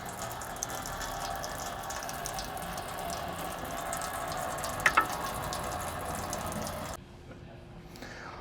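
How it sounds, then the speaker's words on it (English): Fuel drains from a cracked drain on a Baldwin BF46160-SPS fuel/water separator filter as a steady, close liquid hiss for about seven seconds, with a couple of sharp clicks midway, before cutting off abruptly. "I'm going to crack the drain."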